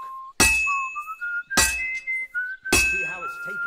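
Three sharp metallic hammer strikes ring out on an anvil while a sword is forged in a video game. Each clanging blow lands about a second apart with a bright ringing tail, and a whistled melody carries between and over the hits.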